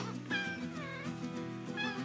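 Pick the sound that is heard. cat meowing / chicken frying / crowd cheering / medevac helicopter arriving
cat meowing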